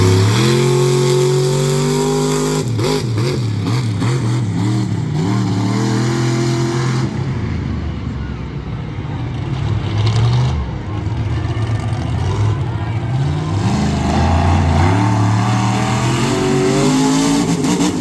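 A monster truck engine refires after a misfire at a Lebanon Valley monster truck and mega truck show, roaring loudly and revving in rising, falling surges, continuous and close, with faint announcer-like voice underneath.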